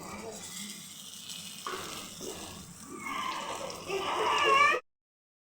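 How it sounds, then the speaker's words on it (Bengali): Green banana kofta balls fry in oil, a soft sizzle with occasional stirring clatter that grows louder and more crackling toward the end before cutting off abruptly. "বড়ার মতো বানিয়ে তেলে ভাজবো হালকা মৃদু আছে কলার এগুলো ভেজে নিচ্ছি"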